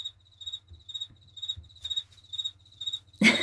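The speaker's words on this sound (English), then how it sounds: "I'll be hearing crickets in my sleep." Crickets chirp steadily in a sound-effect bed, repeated high pulses with a low hum beneath, then a brief louder rustle at the end.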